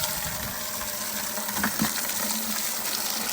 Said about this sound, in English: So you turn it on and the water comes out